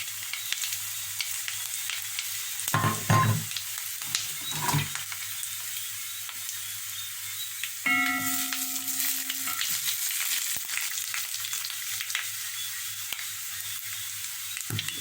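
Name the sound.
whole spices sizzling in hot oil for cook-up rice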